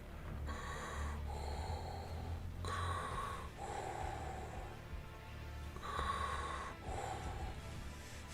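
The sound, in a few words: heavy breathing imitating Darth Vader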